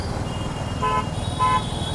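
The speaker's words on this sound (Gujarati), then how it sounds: "આજે બધે ટ્રાફિક લાગેલો છે ભાઈ." Heavy road traffic on Diwali, with a continuous engine and tyre rumble under two short car-horn toots close together near the end.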